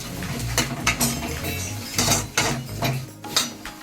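Grated coconut is roasted in a pan for Kerala-style beef varattiyathu, with repeated close metallic clinks and scrapes of the pan and utensil at an uneven rhythm.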